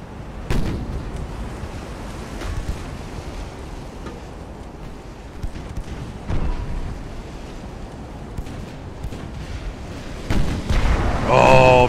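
Heavy cruiser naval gunfire in Ultimate Admiral: Dreadnoughts, a battle against a light cruiser: repeated booming salvos at irregular intervals over a rumbling background, growing heavier toward the end, with someone talking throughout.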